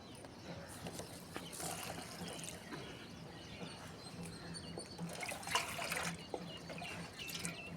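Leftover rice-washing water trickles and splashes faintly onto leafy garden taro plants in a continuous soft pour, with a few birds chirping in the background.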